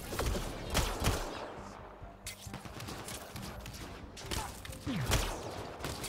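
Gunfire during a firefight in Mass Effect Andromeda: scattered shots and short bursts at moderate distance, mixed with combat noise and under some talk.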